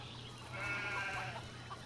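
Sheep bleating in the video game CHKN, a wavering cry in the middle of the clip over a steady low game hum and background noise.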